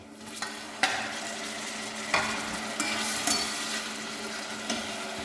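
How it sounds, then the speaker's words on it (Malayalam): Chicken pieces tipped into a pan of fried onions for chicken curry and stirred, a continuous moderate sizzle with several distinct scraping and clinking hits from the spoon against the pan, close up, no voices. "ഇതിലേക്ക് നേരെ നമ്മൾ ചിക്കൻ ഇടാൻ പോവുകയാണ്."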